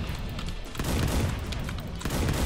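Rapid gunfire shooting at a portal in an indie game, a steady stream of loud repeated shots with booming low thuds, continuous and close throughout.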